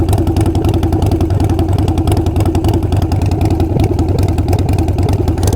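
A Harley-Davidson Sportster 48 with Kinetic 540 Laterals exhaust rumbles at idle nearby, giving a loud, steady, lumpy low throb with a rapid pulsing beat throughout.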